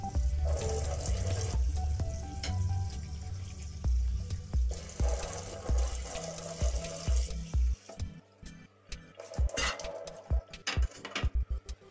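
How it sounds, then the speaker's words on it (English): Cold tap water runs steadily into a sink as red mullet fish is rinsed by hand, with a constant rushing stream that breaks into splashes, drips and knocks of handling near the end. "wash the fish with cold water 5 to 6 times"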